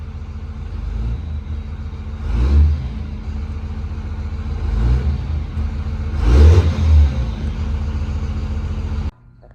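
A car with an erratic fuel pressure gauge is driven around the block, its engine humming low and steady with three swells of acceleration, loud and close from inside the cabin, before cutting off abruptly.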